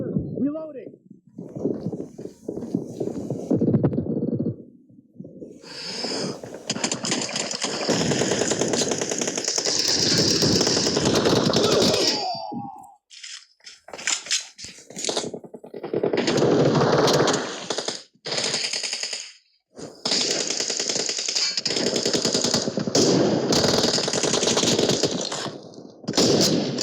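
Rapid bursts of gunfire, including a shotgun, in a PUBG Mobile team deathmatch, loud and nearly continuous with brief gaps, mixed with game sounds.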